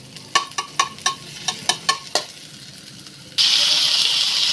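A string of sharp taps from a spoon or spatula on a pan leads to a sudden, loud, steady sizzle as red onion hits hot oil.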